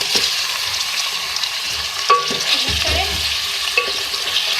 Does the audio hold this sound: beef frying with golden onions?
yes